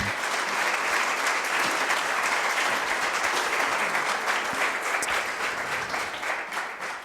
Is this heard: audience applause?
yes